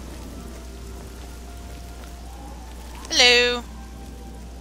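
Rain falling in the video game Oblivion, a soft steady patter under a low hum, briefly interrupted by a single short spoken greeting.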